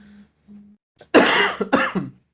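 A few faint low hums lead into two sharp, harsh coughs close up, the second one broken into short bursts, then quiet.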